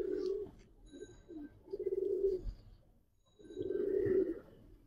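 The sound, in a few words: Tambalal pigeons cooing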